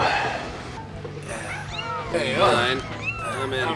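Kittens meow repeatedly in high, rising and falling cries amid steady background noise and overlapping voices.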